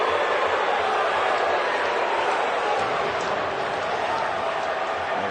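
Baseball crowd at an Ole Miss versus Oklahoma College World Series game reacting to a strike call, a broad, steady wash of murmuring and booing from a large stadium audience, sustained and moderately loud.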